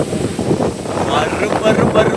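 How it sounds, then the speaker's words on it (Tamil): Strong, gusty wind outdoors where coconut palms sway buffets the microphone with a constant roaring rush. A voice is mixed in with the wind. "பருன்னு பயங்கர காற்றுங்க."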